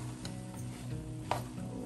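Ham fried rice frying over high heat in a pan, a steady close sizzle with occasional stirring scrapes and one sharper clink of the utensil, no voices.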